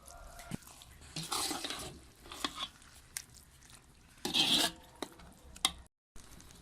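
Grated carrots for gajar gajraila are fried and stirred in a pan: soft scraping and rasping strokes at irregular intervals with a faint low sizzle, close and quiet.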